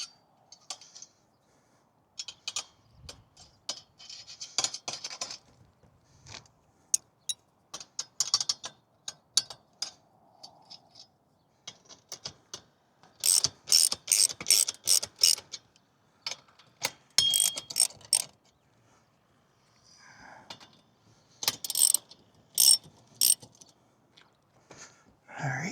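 Ratchet wrench loosening bolts on a ham radio antenna mount after a wind storm, bursts of quick metallic clicking repeated in short runs with pauses between, close and fairly crisp outdoors.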